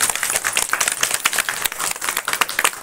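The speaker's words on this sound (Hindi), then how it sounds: "जोरदार तालियों से स्वागत कीजिएगा।" Vigorous audience clapping greets a guest at a birthday commemoration for Pandit Govind Ballabh Pant in Pauri Garhwal, a dense, steady burst of many hands that stays loud throughout with no voices.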